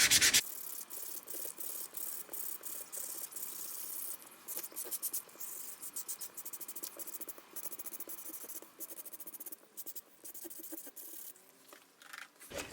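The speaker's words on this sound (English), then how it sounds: "So I'm just going to go ahead and start sanding around the edges." Sandpaper rubbed around the edges of paper for a collage, a close, steady scratchy rasp in quick repeated strokes that continues throughout with no talking.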